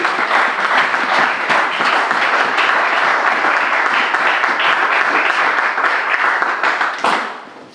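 A church congregation applauding together, a dense, loud, continuous wash of clapping from many hands that holds steady for several seconds before tapering off at the end.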